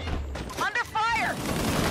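Gunfire and combat effects in the 2020 video game Disintegration, dense and steady across the whole moment, with a synthetic voice-like call cutting through the middle.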